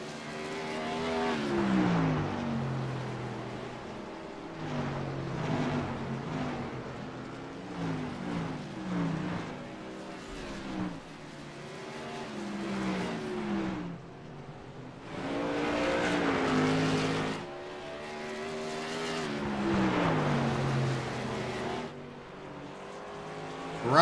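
Race cars lapping the oval at Oswego, engines roaring and rising and falling in pitch as they sweep past one after another in a steady rhythm, loud and fairly close, with no talk.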